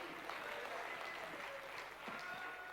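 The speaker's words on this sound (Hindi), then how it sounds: "एक बार जोरदार तालियां" Audience applause at a seminar on LIC insurance agency success, a steady wash of clapping filling the clip, moderately distant and even in level.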